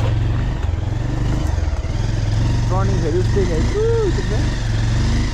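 Motorbike ridden along an overgrown, rough bush path, a steady low engine drone running throughout while someone talks over it.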